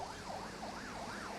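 An ambulance siren wails steadily in a rising and falling cycle on a congested stretch of the Pokuase-Nsawam road, faint and somewhat distant over road noise.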